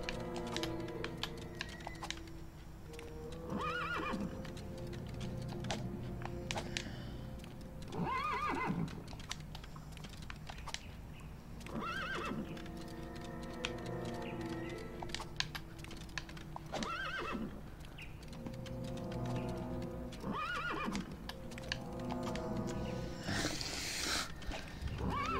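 A horse in the video game LEGO Indiana Jones 2 neighs and whinnies repeatedly over a steady clip-clop of hooves, with busy game background sounds throughout; no talking.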